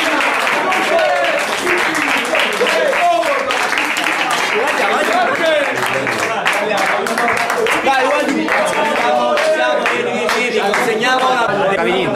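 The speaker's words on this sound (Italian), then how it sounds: "un applauso ai terzi classificati in extremis ai calci di rigore contro gli Spogli" Applause and clapping ring out for the third-placed team at an amateur football Serie C awards ceremony, a steady crowd roar lasting throughout while a voice talks over it.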